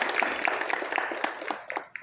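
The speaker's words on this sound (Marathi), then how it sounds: "त्यांचं आपण टाळ्या वाजवून स्वागत करूया." Audience clapping to welcome a guest lecturer at a Marathi book club talk, a steady patter of many hands across the room that thins out toward the end.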